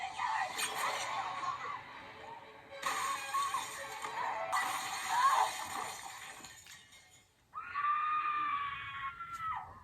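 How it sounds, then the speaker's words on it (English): A woman screams in a horror scene from the 2000 film Scream 3, shrill and loud in several long bursts separated by brief gaps, ending with a sustained high scream after a short quiet pause. "We get a fabulous scream from Gale in every single Scream film"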